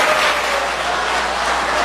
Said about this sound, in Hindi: एक मरतबा तालियां बजाएं